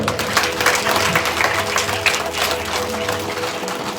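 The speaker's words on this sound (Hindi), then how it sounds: "आप सब इनके लिए ताली बजाओ" At a Bhagavat Katha gathering in Himachal, an audience claps in thanks, a fairly steady spread of many hands close by, with some murmuring voices underneath.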